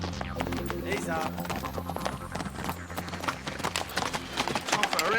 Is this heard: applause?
no